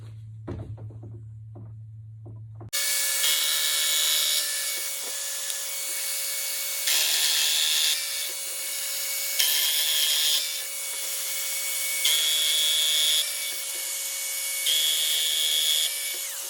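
A Festool Domino joiner cuts mortises into a wooden tabletop with a steady high-pitched motor whine, broken by several louder plunging cuts in a regular rhythm after a brief quiet start.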